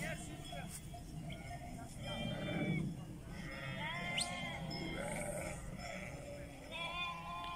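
A flock of sheep bleats repeatedly at varied pitches, several calls overlapping near and farther off, with someone talking over the farm scene.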